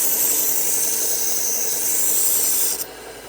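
Sharpening a Henckels kitchen knife blade, a steady close rasping grind of steel on an abrasive that holds constant before easing off near the end, with no talk.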